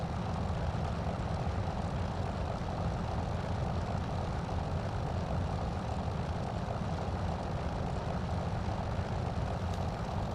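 A P-40F Warhawk's propeller engine drones steadily and loudly throughout as the fighter descends toward the runway in Microsoft Flight Simulator, a dense, unbroken roar with no voices.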